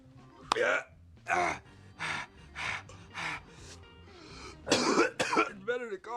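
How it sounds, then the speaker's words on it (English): Harsh coughing fits after smoking weed, about eight loud bursts spaced roughly half a second to a second apart, ending in raspy gasping breaths, close up. "It's better to cough."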